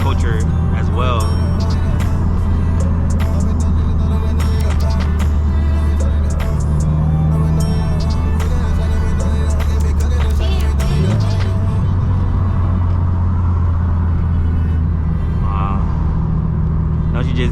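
A Stage 3+ Subaru WRX STI with a loud aftermarket exhaust and turbo, heard from inside while driving: a steady, heavy low engine drone that shifts pitch midway, loud and continuous.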